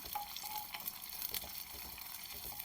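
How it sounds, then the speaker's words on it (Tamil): Ten small onions sautéing in a pan for a village-style anchovy dried-fish curry, a steady soft sizzle and crackle running throughout at a moderate, even level with faint clinks. "நான் ஒரு 10 சின்ன வெங்காயம் போட்டு அதை கொஞ்சம் நல்லா வதக்கின்னு நல்லா வதக்கலாம்"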